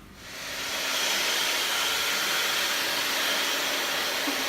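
A hair dryer blows on freshly dyed pink and purple hair, a loud, steady rushing hiss of air that ramps up in the first second and holds constant, close by, with no talking.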